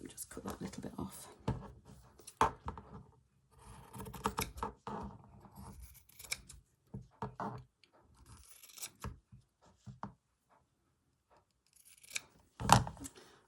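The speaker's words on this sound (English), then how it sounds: "Okay, I'll just cut that little bit off." Scissors snipping embroidery thread during hand stitching, several small crisp cuts and scratchy handling sounds scattered among quiet gaps, close and faint.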